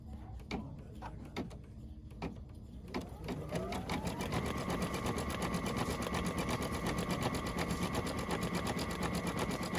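A sewing machine stitches rickrack onto a fabric pet stocking: a few separate clicks first, then a steady, fast mechanical whir that runs close and continuous to the end.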